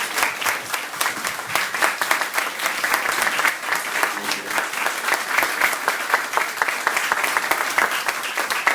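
A concert audience gives a sustained round of loud applause, dense and continuous clapping from many hands filling the hall for several seconds.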